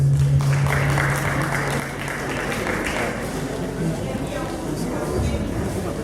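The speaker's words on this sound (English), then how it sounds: "A round of applause for her, please." Applause from an audience at an event hall, broad and continuous, sits under a loud low hum with some voices mixed in across the whole stretch.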